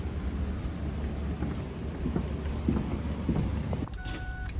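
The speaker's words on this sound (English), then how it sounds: "Oh, it's raining, y'all." Steady rain pours outdoors with low rumbles of thunder rolling underneath, a dense hiss throughout that cuts off abruptly near the end, no voices.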